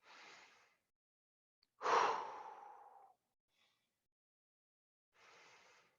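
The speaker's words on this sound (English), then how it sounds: "Take an inhale and let it go. We're going to start by just focusing on your breathing." Slow, deep breaths are taken during a calm fitness session, three breathy inhales and exhales spaced apart with silent gaps, the middle breath loudest and longest.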